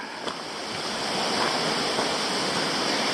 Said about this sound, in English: the top of Bunyan Falls just there